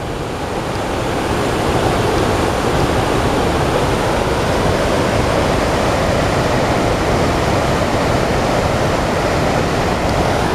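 Whitewater river rapids near Kyburz, California rushing in a loud, steady broadband roar, heard close and alone with no talk.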